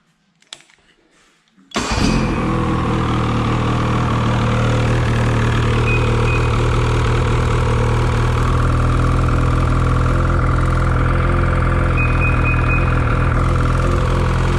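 Motorcycle engine fitted with a Bikeman performance exhaust can: a few faint knocks, then the engine fires up and runs loud and steady for the rest, a deep, even drone with no talking.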